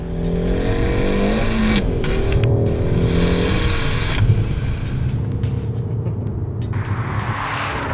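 A Peugeot 308 GTi's engine revs hard in sport mode, a loud, thrashy, continuous drone that rises and falls with throttle blips and gear changes, close up with no talking.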